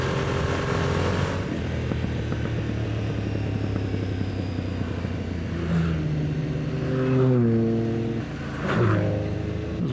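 Motorcycle engines roar and rev steadily, with rising and falling tones as bikes pass close by.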